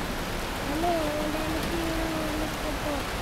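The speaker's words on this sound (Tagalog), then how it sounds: "ang lakas na ng ulan dito sa Mate" Heavy rain pours as a steady, dense hiss of drops, with voices talking faintly underneath.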